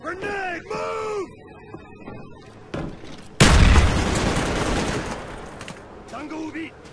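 A grenade blast in a first-person shooter video game erupts as a loud, sudden boom midway, followed by several seconds of dense, sustained gunfire; game voice callouts are heard before the explosion.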